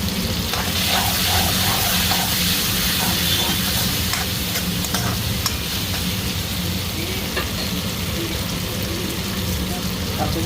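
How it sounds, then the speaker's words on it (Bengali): Prawns fry with ridge gourd, chopped ginger, garlic, salt and turmeric in a pan, giving a steady loud sizzle and hiss with scraping stirring throughout and no talking. "লবণ আর হলুদ দেওয়া হয়ে গেছে, একটু আদা আর রসুন কুচিয়ে দিয়ে দিলাম।"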